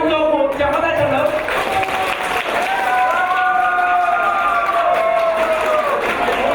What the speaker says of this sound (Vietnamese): tại sao chúng ta không cho một tràng pháo tay thật lớn?